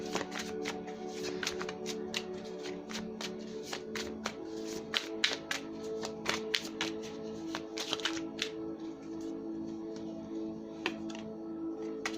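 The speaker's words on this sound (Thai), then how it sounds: "เดี๋ยวขออนุญาตเปิดไพ่ก่อนแล้วกันนะคะ" Tarot cards are shuffled by hand, making a long run of crisp, rapid riffling and tapping clicks, close and fairly loud, over a soft steady tonal background.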